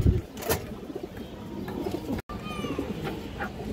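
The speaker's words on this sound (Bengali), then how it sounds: "এই যে দেখেন ফুল তোতা একটা কবুতর।" A tota pigeon, a domestic breed, cooing nearby in a loft, low soft repeated coos under a busy background murmur, with a faint higher chirp or two.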